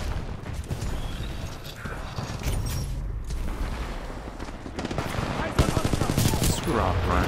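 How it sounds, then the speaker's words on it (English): Small SMG fire in Titanfall 2, a steady stream of shots under dense in-game combat noise and explosions, loud and continuous. "Oh, that's a tiny SMG. That thing shoots so slow, though."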